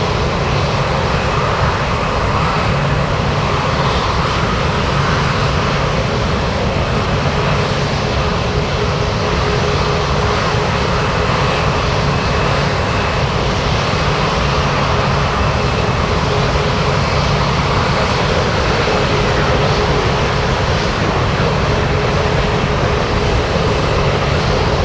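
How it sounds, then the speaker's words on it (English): A Boeing 737 Classic jet airliner lands in a strong crosswind at Anchorage, arriving from Fairbanks. A loud, continuous broadband engine roar holds close and steady throughout with no voices. "We have a 737 Classic flying in from Fairbanks."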